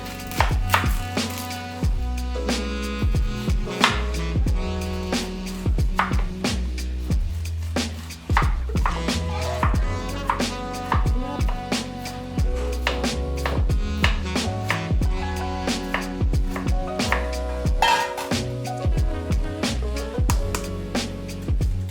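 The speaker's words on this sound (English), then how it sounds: "I'll start by dicing up just under half of this large onion." A knife dices a large onion on a cutting board in rapid, steady chopping strokes, close and loud, continuing throughout with no talk.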